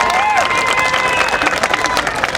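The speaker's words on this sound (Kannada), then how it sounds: "ನಮ್ಮ ರಾಯಚೂರಿನ ವಿದ್ಯಾರ್ಥಿ ಜೋರದ ಚಪ್ಪಾಳೆ ಬರಲಿ" Loud applause and cheering from an audience for a student honoured at a felicitation event, dense continuous clapping with crowd noise over a voice on a public address system.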